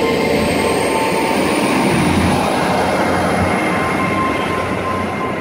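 A Class 800 train pulls away from Westbury station bound for Paignton, a loud, steady engine roar and rolling rumble filling the platform without pause.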